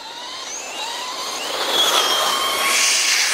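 An Arrma Raider XL BLX RC car drives off on asphalt, its high-pitched electric motor whine rising and growing steadily louder, heard alone with no talking.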